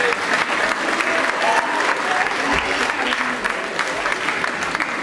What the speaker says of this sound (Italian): ancora un applauso e bravi a tutti